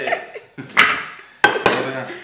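A cooking pot is handled in a home kitchen, with a few sharp metallic clanks and scrapes in separate bursts, close by, as people talk around it.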